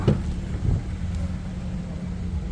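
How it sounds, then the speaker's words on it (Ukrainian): A used Nissan Rogue crossover with a 2.5-litre petrol engine idling at an outdoor car market, a low steady rumble under wind noise, with a voice briefly at the start. "Заведений двигун."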